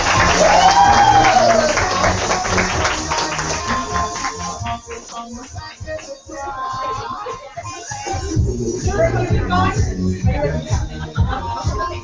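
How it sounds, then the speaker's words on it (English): Audience applause and cheering for winners at an evening motivation meeting, loud at first and then thinning into scattered clapping mixed with voices and murmuring. "Let's give them a big round of applause."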